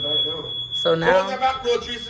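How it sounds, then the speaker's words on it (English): A house alarm in an eight-bedroom home in Orlando, Florida sounds as a steady high electronic tone throughout, continuing under close talking voices once they begin. "So now the alarm is going off here."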